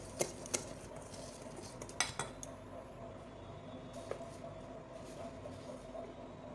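A utensil mixing palm-fruit cake batter with a pinch of salt in a bowl, a few sharp clinks against the rim early on over a quiet, soft stirring swish, with no one speaking.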